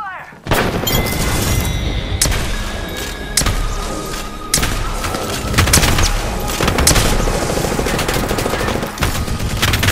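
Gunfire in the Apex Legends video game: dense, loud bursts of automatic weapon fire with heavy thumps and booming impacts that continue almost unbroken for ten seconds, with a voice talking underneath.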